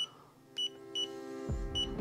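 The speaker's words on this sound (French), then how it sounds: "Et comme vous pouvez entendre, on a un bip continu." A YOUNGDO laser tape measure emits a steady, continuous electronic beep, close and clear, with brief pulses of a higher tone on top and a low rumble of handling noise toward the end.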